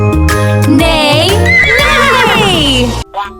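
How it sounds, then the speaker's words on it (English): A loud, close horse whinny rises and trails off in a long quavering neigh, alone, ending abruptly. "The horse says"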